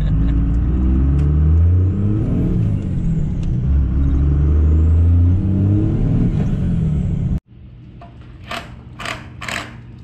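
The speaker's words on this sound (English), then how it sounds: "now floor it across the road before we get hit by a car" A Duramax diesel pickup accelerates hard at full throttle, its deep engine roar rising through the gears for several seconds before cutting off abruptly, followed by a few faint knocks.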